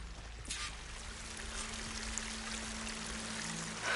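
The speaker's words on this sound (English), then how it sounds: "That waterfall must be coming from somewhere." A waterfall rushes steadily in the Horizon Forbidden West video game, a faint, even wash of falling water with no voices over it.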